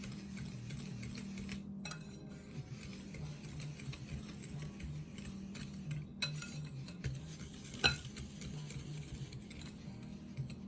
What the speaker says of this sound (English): Mix these all together. Make sure you mix these well.